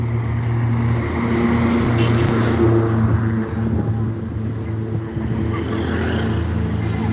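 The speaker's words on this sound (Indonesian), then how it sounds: "Ini ada beberapa truk" Trucks roll past nearby with a steady, loud low engine drone and road rumble that holds throughout, with no voices standing out.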